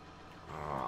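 A tractor engine in Farming Simulator 19 idles with a steady, rough low rumble that swells slightly louder across a brief moment.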